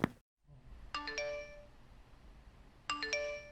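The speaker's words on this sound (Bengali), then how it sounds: "এ সময় তো কেউ কলিং বেল দেয় না" A two-tone ding-dong doorbell chimes twice in an animated Islamic cartoon, each chime a clear, ringing pair of notes fading out, with a quiet pause between them.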